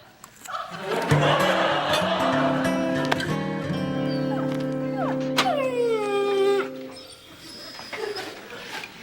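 A dog whines and lets out drawn-out howls with rising and falling pitch, loud and close, mixed with sustained tonal sounds and some background noise.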